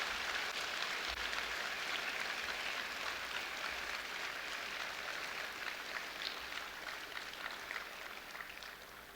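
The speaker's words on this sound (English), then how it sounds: "can you give that man an enormous round of applause?" Sustained applause from a school assembly audience, a steady dense wash of clapping lasting throughout, fairly even in loudness and tapering slightly toward the end, with no talking over it.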